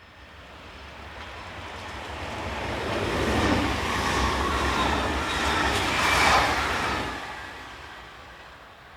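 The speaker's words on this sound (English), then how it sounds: "This pair of units head north not long after the rain had stopped." A pair of passenger train units runs north on the Valence–Lyon line in France just after rain, a steady broad rumble and wheel roar that swells as they pass and then fades, heard alone.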